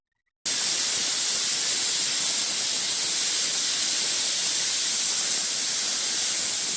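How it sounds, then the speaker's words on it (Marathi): A loud, steady hiss of escaping steam from a pressure cooker starts abruptly and continues unbroken at constant strength. "मी कुकरचं टोपण लावते आणि दोन शिट्ट्या ह्याला काढून घेणार"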